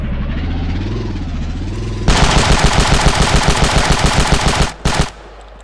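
Automatic weapon fire in the Ravenfield shooter game: after a couple of seconds of low rumbling ambience, a loud, rapid rhythmic burst rattles on for about three seconds, breaks briefly, and ends with a short final burst.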